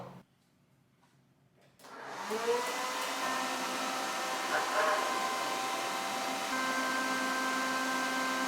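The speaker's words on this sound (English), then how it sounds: "I was sitting under the hair dryer" A hood hair dryer switches on after a quiet moment and then whirs steadily at moderate level, a continuous airy hum with faint tonal whine.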